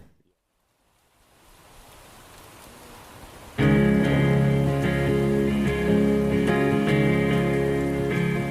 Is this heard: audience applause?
no